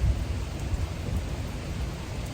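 Rain pouring during a beach-day storm, with low rumbling thunder underneath, a dense steady hiss throughout.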